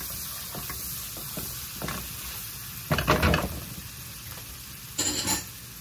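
Shallots simmer in a pan for Alfredo shrimp pasta, giving off a low steady sizzle with light clicks, and two louder bursts of pan scraping or stirring come a couple of seconds apart, with no voices.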